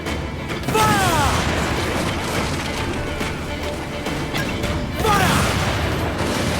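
Heavy booming cannon fire and rumbling chaos from a ship's broadside in Assassin's Creed Black Flag, loud and dense, with crowd shouts swelling at two moments.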